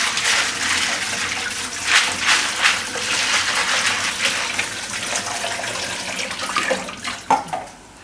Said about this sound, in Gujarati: તો આ પાસ્તાને એકવાર આપણે એમને ઠંડા પાણીએ ધોઈ નાખીશું